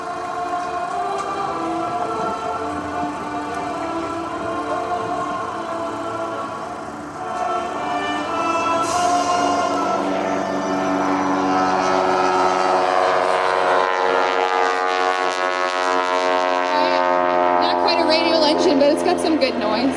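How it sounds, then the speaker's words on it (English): A North American T-6 World War II training airplane's radial engine roars steadily at an airshow, loud and sustained for the whole stretch, its pitch slowly shifting as the aircraft passes. "Listen to this wonderful engine."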